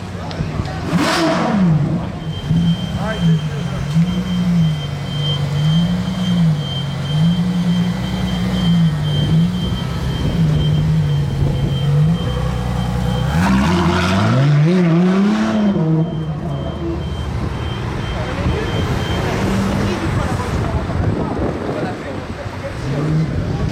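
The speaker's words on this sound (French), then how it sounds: "Il y a la Veyron et la Ferrari qui bougent, j'ai l'impression les amis." A Bugatti Veyron and a Ferrari pull away at an evening gathering in Juan-les-Pins, engines revving and rising in pitch, wavering then climbing sharply, with wind buffeting the microphone and voices nearby.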